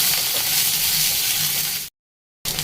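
Nigella seeds and grated ginger sizzle steadily in hot oil, a loud, dense frying hiss that runs unbroken before cutting off abruptly and then resuming.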